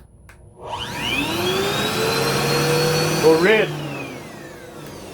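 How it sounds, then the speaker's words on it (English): A vacuum cleaner is switched on while plugged into an EGO Nexus Escape 56-volt, 400-watt portable power station, starting with a loud steady whine that surges briefly near the end, with a short spoken phrase over it. "watch when we turn the vacuum right on"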